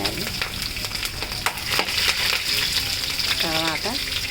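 Green chillies fry in hot oil, a continuous loud crackling sizzle with scattered pops and stirring, a brief voice-like sound near the end.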